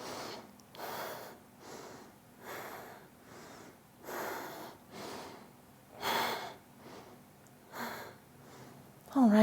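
Slow rhythmic breathing during a yoga flow, with repeated long inhales and exhales sounding close and soft, about every second, with no talk.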